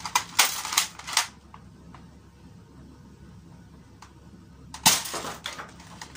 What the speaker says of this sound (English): And the good thing, of course, is it will fire half darts.